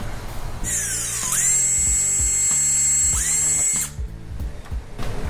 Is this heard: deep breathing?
no